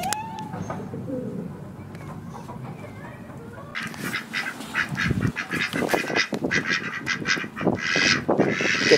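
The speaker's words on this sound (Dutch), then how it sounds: "En vogels." Birds calling at an amusement park, a mix of squawks and honking calls that swell loud and busy in the second half, coming from several nearby birds over background crowd noise.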